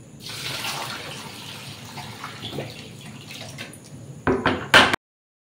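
Water poured into a pot of rice: a splashy running pour that gives way to a few loud clanks of a metal pot or utensil at the end, then abrupt silence.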